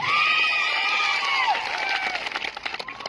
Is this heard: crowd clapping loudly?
yes